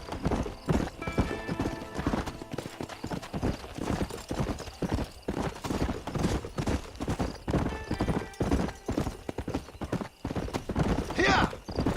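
Horse hooves clip-clop at a quick gallop in the Red Dead Redemption video game, a steady rhythmic patter close by, with a whinny and someone speaking over the hoofbeats.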